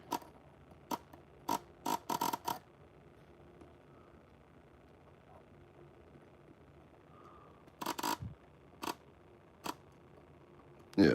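Relays in a 2010 Dodge TIPM fuse box click sharply in scattered single clicks and quick bursts of several. The clicks are close and crisp against an otherwise quiet background, and a final louder click comes at the end.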